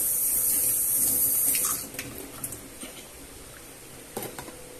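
A tap runs steadily into a bath during a child's bubble bath, loud and continuous at first, then cut back sharply to quieter trickles and scattered splashes.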